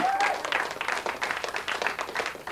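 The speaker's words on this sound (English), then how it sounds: "Give them a nice round of applause" Audience applause on a 1994 radio show, a dense steady wash of clapping lasting the whole moment, fairly close and loud, with a brief whistle near the start.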